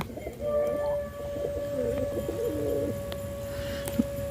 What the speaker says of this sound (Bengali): দেখেন একটা পায়রা কবুতর